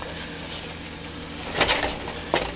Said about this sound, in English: You can see that our shallots are the butter's starting to sizzle here